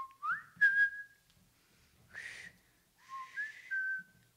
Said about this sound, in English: just whistle like this